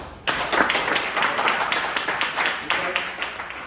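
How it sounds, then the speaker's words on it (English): A group claps for themselves during a leadership chat, a dense burst of hand clapping that starts abruptly and continues steadily and close, with some voices mixed in beneath. "I'd like to also to clap for yourselves"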